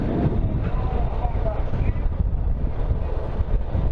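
Strong wind rushes past in the centre of Papanduva, Santa Catarina, a loud, steady, gusting roar buffeting close by for the whole stretch with no break.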